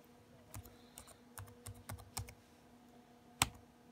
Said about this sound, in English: So all you do is you type in radcfg, hit enter.